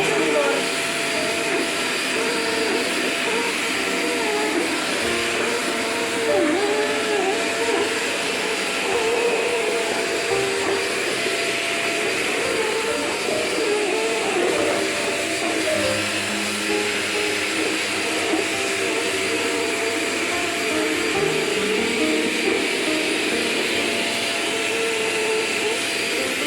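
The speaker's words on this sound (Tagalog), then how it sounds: "the vacuum, the new vacuum" A Potli Forzaspira vacuum cleaner runs with a steady, close, continuous motor whine and airflow roar that holds level throughout, with a voice talking faintly over it.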